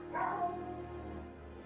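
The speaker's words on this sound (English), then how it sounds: "And there goes my dog." A dog barks once or twice, a short sharp call near the mic, fading into low room noise.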